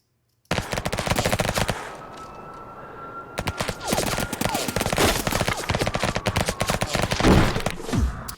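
Film-scene gunfire with ricochets: sharp bursts of automatic fire and single shots crack in rapid, uneven volleys, with a brief lull before heavier sustained firing resumes, loud and close with whining ricochet streaks between the shots.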